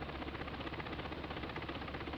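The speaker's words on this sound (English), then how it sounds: "So here's my helicopter." A simulated helicopter in a VBS4 military simulation, its rotor and engine producing a steady, dense, fairly quiet drone throughout without talk.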